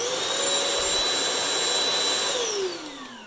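A Bissell CrossWave floor cleaner runs with a steady, loud motor whine and airy rush that holds level, then begins to wind down near the end, with no voices over it.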